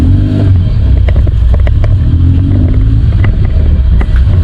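The engine of a Nissan Sentra B14 runs with a loud, steady low rumble and some clattering, close and continuous, with no talk over it.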